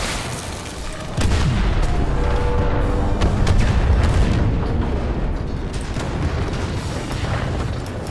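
Heavy gunfire and booming explosions from a shootout in the Star Wars Battlefront 2 video game, a dense, loud and continuous barrage with rumbling low blasts that swells after a quieter first second.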